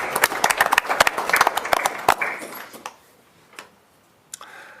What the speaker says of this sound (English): So we'd like to just do a round of applause for those.